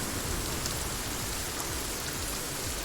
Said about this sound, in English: need to turn down the rain on this game, otherwise I can't hear you